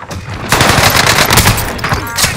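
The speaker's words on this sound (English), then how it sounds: "Taking fire over here!" Rapid automatic gunfire bursts in Call of Duty Warzone on the Caldera map, a brief quieter moment then sustained loud, dense shooting with several separate volleys through the rest.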